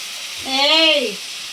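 Broad beans and bitter gourd fry lightly in a pan with a steady, soft sizzle, and a brief voiced sound rises over it in the middle.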